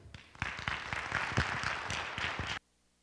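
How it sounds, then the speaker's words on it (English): Audience applause at a community event, a burst of close, distinct hand claps lasting a few seconds before cutting off abruptly into quiet. "So if you'd please help me introduce, or help me applaud Karen Hale."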